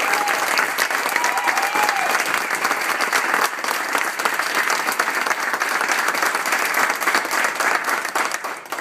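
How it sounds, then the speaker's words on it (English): A packed room at a NASDAQ closing ceremony breaks into loud, sustained applause, dense clapping holding steady throughout with faint crowd murmur beneath. "Having a big round of applause."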